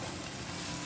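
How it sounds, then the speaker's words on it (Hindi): Masala for bhindi bhaji stirred in a hot pan, a steady close sizzle and frying hiss with soft scraping, continuous and fairly loud. "सावकाश मिक्स कर।"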